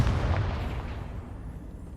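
A Confringo blasting spell bursts in the Hogwarts Legacy video game: one heavy, low boom up front that rolls off into a fading rumble over a couple of seconds, heard alone without talk.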